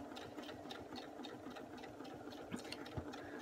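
Home sewing machine stitching through quilt layers with a 1/4 inch ruler foot, a steady fast mechanical whirr with regular needle ticks, close and fairly quiet, no talk.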